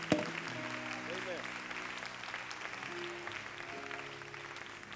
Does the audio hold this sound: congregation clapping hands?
yes